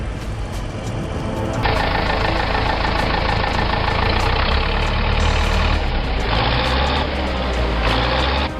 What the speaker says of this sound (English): The engine roaring and wheels spinning.